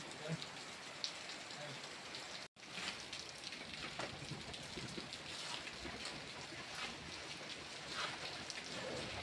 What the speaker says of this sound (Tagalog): Grabe yung ulan.